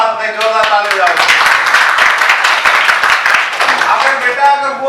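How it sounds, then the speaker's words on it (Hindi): A group claps loudly and rapidly in a steady burst of applause that fills the space, with voices mixed in. "जोरदार ताली बजाओ"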